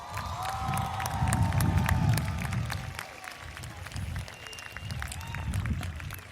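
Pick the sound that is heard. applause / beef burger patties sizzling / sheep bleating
applause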